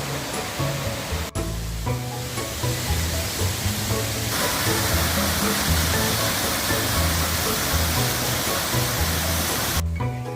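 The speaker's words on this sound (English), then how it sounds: "At Gusong Falls, the roaring water fills you with a sense of majesty." The roaring waterfall at Gusong Falls produces a loud, dense, continuous rush of falling water that stays steady and close throughout, with a low rumbling underneath.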